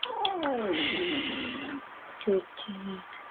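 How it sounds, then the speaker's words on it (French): A cat lets out a drawn-out, wavering caterwaul up close, followed by shorter meows and chirps, with a voice speaking softly. "Le petit chat."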